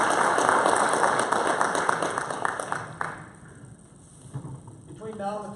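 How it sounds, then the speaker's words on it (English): A crowd at a candidate forum applauds steadily, a dense wash of clapping that fades toward the end as a few scattered claps and a voice come through. "how about a round of applause for these folks?"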